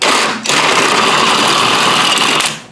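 A power tool, likely an impact wrench, runs loud and close as it removes a rear shock absorber bolt on a Chevy HHR. A brief dip near the start is followed by a steady, continuous whine to the end.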